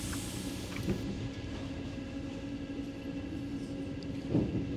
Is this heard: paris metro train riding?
yes